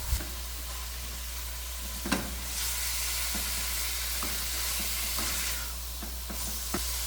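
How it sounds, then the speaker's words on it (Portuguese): Ground meat frying in a pan, a steady close sizzling hiss with a few sharp stirring knocks of a utensil, no voices over it. "Aí eu vou primeiro fritar essa carne um pouquinho, deixar ela ficar mais branquinha"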